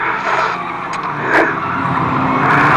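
Race cars skidding on a dusty raceway track at Fleet Raceway in 2005, heard as a continuous engine roar with scraping tyre slides and a brief louder pass near the middle, with no talking.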